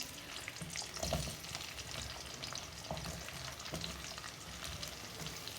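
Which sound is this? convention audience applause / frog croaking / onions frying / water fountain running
onions frying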